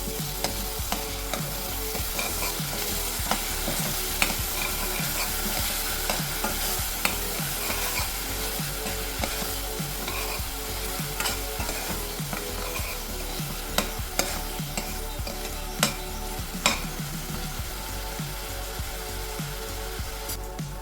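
Onion and ground dry coconut paste sautéing in a pan for a non-veg gravy, with a steady close sizzle and frequent scraping and stirring strokes throughout.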